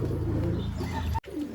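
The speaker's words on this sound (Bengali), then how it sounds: "এই দেখো সিয়াব ভাই, একটা সবুজ মেশিয়া পায়রা।" A green Meshia pigeon in a small loft gives a steady, close cooing over a low hum, broken by a short sudden dropout before resuming.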